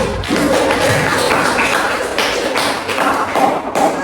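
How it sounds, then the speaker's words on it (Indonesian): A classroom group claps for the performers during a guidance session on peer conflict, steady loud clapping with thumps that keeps going without a break. "Oke, tepuk tangan untuk pemain dulu"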